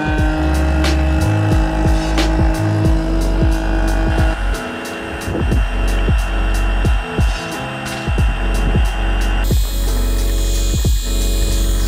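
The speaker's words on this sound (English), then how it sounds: "Take the suction side of your oil extractor and put it down the dipstick tube, and then plug it in and turn it on." An electric oil extractor pump runs steadily, sucking oil up through the dipstick tube of a Yamaha GP1800R or VX HO 1.8L engine, with a continuous motor whine and a shift in tone near the end.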